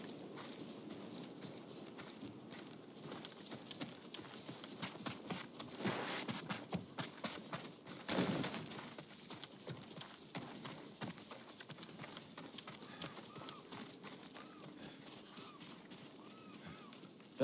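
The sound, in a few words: horse hooves clip-clopping in Ghost of Tsushima, video game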